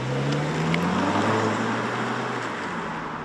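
The turbocharged engine of a 2024 Mazda3 Carbon Turbo AWD sedan accelerates, its tone rising smoothly for a few seconds with a steady road and wind rush from inside the cabin.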